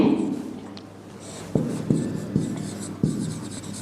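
Chalk or marker writing on a board during a sixth-grade integer maths lesson on the number line, heard as a few sharp, close taps and short strokes spread over a few seconds with no talk.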